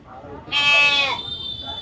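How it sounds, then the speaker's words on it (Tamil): A lamb bleats loudly and close by at a hot, busy goat market in Melapalayam, one drawn-out quavering cry with faint background chatter before and after. "ஒரு செம்மறி குட்டி வச்சுருக்காங்க."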